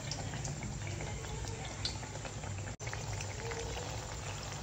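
Malpua batter frying in hot oil in a home kitchen, a steady close crackling sizzle with dense bubbling that runs throughout and breaks off for an instant near the middle.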